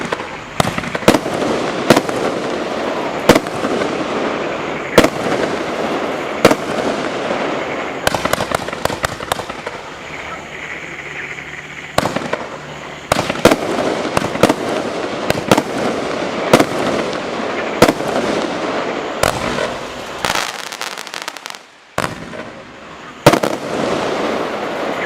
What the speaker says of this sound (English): Now, this is an amazing up to 200 gram standard cake, 25 shots.